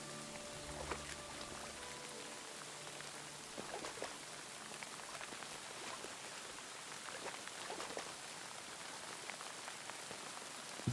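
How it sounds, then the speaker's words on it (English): Steady rainfall in Kingdom Come Deliverance 2, a quiet, even patter of drops on surfaces and water continuing throughout, with occasional louder splashes and no talking. "The thing is, the sound of the rain does not help."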